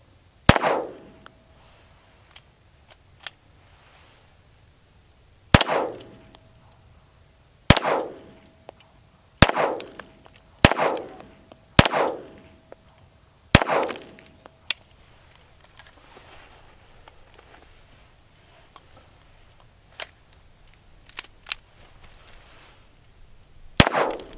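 Handgun shots ring out at a KYL rimfire rack, each sharp crack followed by a metallic clang from the steel targets; about a dozen irregularly spaced hits sound at a distance, with quiet pauses between them.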